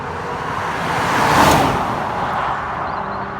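ABT-tuned Audi A3 3.2 V6 driving in sport mode, a steady broadband engine and road roar from inside the car that swells to a peak about halfway through, then settles back to a sustained drone, with no talk.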